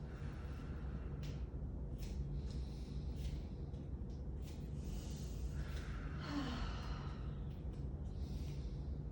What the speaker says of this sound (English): In the nose, out the mouth. Pushing that breath out, getting that long, deep inhale and exhale.